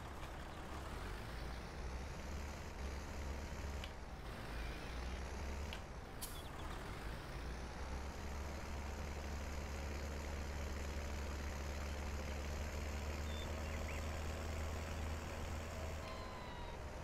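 Steady low diesel drone of a tractor engine in Farming Simulator 19, idling and rumbling continuously with a faint hiss and a brief air-brake-like burst early on, no talking.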